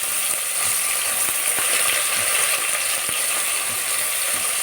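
Chopped onions with green chilies and cinnamon frying in oil and ghee for a Palakkad Rawther biryani, giving a constant close hiss and sizzle with faint scattered clicks throughout.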